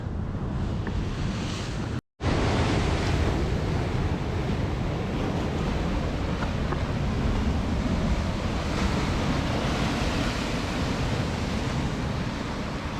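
Waves churn and surge against rocks along the Scottish coast, a loud continuous roar of surf mixed with wind buffeting the microphone and a brief dropout early on.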